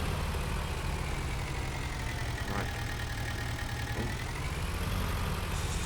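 Tractor engine idling steadily in Farming Simulator 19, a constant low rumble with a faint rising machine whine over it, running throughout with a brief word spoken.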